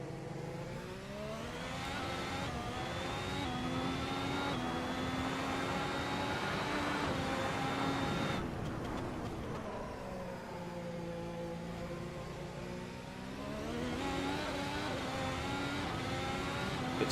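A Ferrari race car in the Assetto Corsa video game on a hot lap, its engine screaming at high revs with rising pitch sweeps through each gear, dipping briefly on shifts and braking, loud and continuous.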